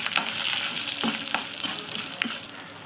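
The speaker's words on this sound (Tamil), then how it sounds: "கடலை பருப்பு போட்டுக்கலாம், மிளகு போட்டுக்கலாம், ஜீரகம் போட்டுக்கலாம், காஞ்ச மிளகா போட்டுக்கலாம். இது எல்லாத்தையும் நல்லா வறுத்துடலாம்." Chana dal, black pepper, cumin and dried red chilies roasting in a pan, giving a soft, steady sizzle with light rattling stirs and a few small clicks, close up and with no speech.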